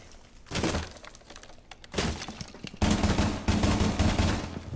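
Bursts of automatic gunfire in Rainbow Six Siege on the Kanal map, shooting holes into walls, with crunching debris and breaking material; three separate volleys, each louder than the last, and quiet gaps between.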